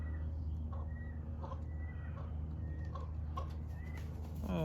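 Short, repeated clucks from a hen, with soft, fairly distant calls spaced across a quiet outdoor background.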